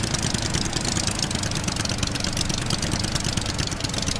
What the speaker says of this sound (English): I like the engine sound. It's pretty good.